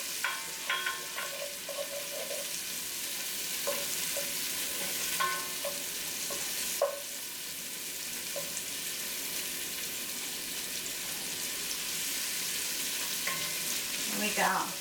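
Shallots and onions fry in chicken drippings in a pan, a steady broad sizzle running the whole time with occasional spatula scrapes and stirring clinks, no talking.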